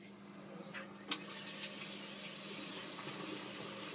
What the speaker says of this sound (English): So first I'm going to start by turning the cold water back on.